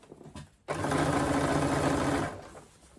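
A sewing machine runs one steady burst of stitching for about a second and a half, joining a crossbody bag's side to its bottom panel, close and even, with quiet handling before and after.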